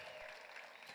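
Audience applause at a Christian worship gathering, a brief, faint burst of dense clapping heard from a distance.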